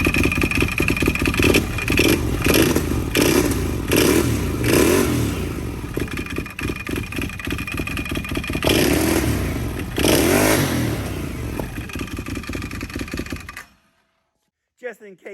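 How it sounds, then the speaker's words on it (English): A Can-Am Outlander ATV engine with its CVTech primary clutch belt box removed revs repeatedly in loud bursts with a rough, clanky mechanical rattle, then cuts off near the end. "She still makes this weird clanky noise."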